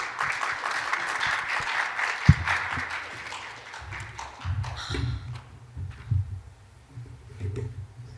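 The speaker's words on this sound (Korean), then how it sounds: "여러분 뜨거운 박수로 환영해 주시면 감사하겠습니다" Warm audience applause at a university innovation forum at Dong-A University as a professor is welcomed to the stage; loud clapping for about three seconds that thins out into scattered claps, thuds and footsteps on the stage.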